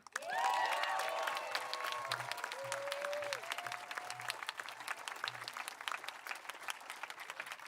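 Audience applause at a high school class awards night, a sustained patter of many hands clapping with a few whoops and whistles over it, moderately distant and steady throughout.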